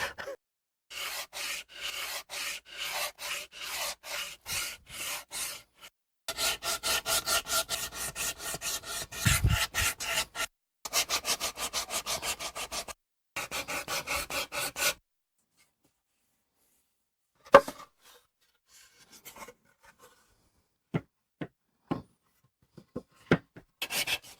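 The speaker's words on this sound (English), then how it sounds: "it's really one of my least favorite things to do is sanding" Rhythmic rasping strokes of hand sanding on an electric guitar's wooden body, close up, coming in steady bursts with short pauses, then sparse scattered scrapes and taps near the end.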